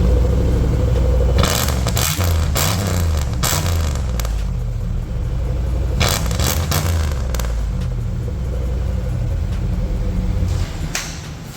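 A Cadillac engine idles with a loud steady rumble after an oil change, rising in a few revs and settling back, with crackling exhaust up close.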